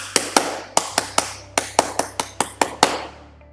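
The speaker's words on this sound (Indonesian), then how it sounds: "Tepuk pramuka." Scout-style rhythmic clapping, eleven sharp near claps in a patterned sequence of pairs and singles with brief pauses, alone without talk.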